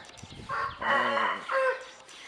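A fighting rooster on a farm that also keeps wild boars gives a single drawn-out crow in several rising and falling parts, close and clear with no talk over it.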